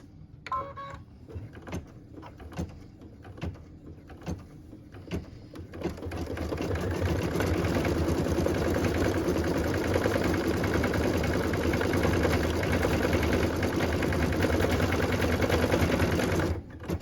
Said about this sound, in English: put that in our machine so that we can stitch that cute little bow detail on that burlap bag